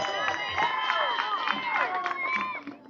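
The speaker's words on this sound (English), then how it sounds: "As Aiden Bell gets a nice ovation from the crowd here" A Little League baseball crowd gives a warm ovation, scattered clapping mixed with cheers and children's shouts, steady and moderately loud for a few seconds before fading.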